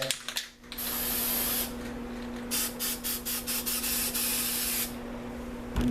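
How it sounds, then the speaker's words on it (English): Close bursts of an aerosol can spraying white paint: a brief hiss, a steady sustained spray, then a run of quick pulsing sprays before it stops, over a low steady hum, with no voices. "And then we're going to spray white on top of that."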